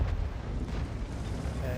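A tank cannon shot in World of Tanks, a deep booming blast with a rumbling low-end tail that fills the whole moment, loud and sustained under faint background noise.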